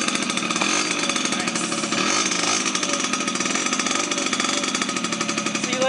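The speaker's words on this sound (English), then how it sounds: "Hit the choke, and then do the kickstart, and we'll see how she starts up." A kickstarted 1983 Yamaha RX50 small two-stroke motorcycle engine idles close by with a loud, steady, buzzing rattle and no pauses.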